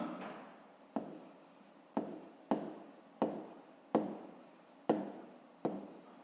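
Handwriting during a fifth-grade math lesson: a pen or pencil scratches across paper in about seven steady, rhythmic strokes, each a sharp start fading into a soft scrape, close and alone with no talk.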